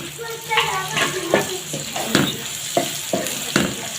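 Onions and dry masala ingredients fry in a pan for a khashkhash (poppy seed) salan, with a steady sizzle broken by repeated spoon scrapes and stirring knocks roughly every half second.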